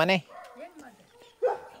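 A dog gives a short bark, then quieter whimpering sounds, then another bark, close by with some vocal sounds mixed in.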